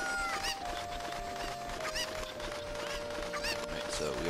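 A cucco chicken in Zelda: Ocarina of Time clucks and squawks in repeated short bursts over a steady game background tone, moderately close.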